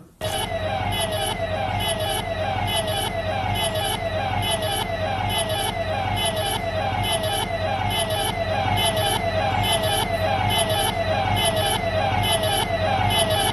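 A police vehicle siren wails loudly and continuously, with a repeating rising and falling tone over a steady background rumble and no pauses.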